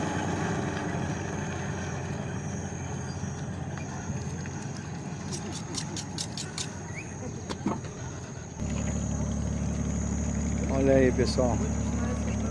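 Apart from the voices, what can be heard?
passenger speedboat on the Solimões river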